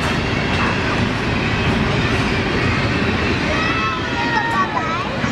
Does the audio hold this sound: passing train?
yes